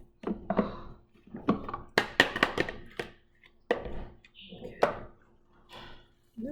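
Knife chopping fresh salmon on a cutting board for salmon burgers, a series of sharp close thunks in irregular bursts, mixed with talking.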